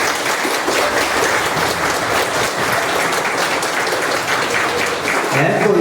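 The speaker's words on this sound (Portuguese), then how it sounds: "Vamos aplaudir Jesus?" An audience at a religious gathering claps together in sustained, dense applause that holds steady for several seconds, loud and close.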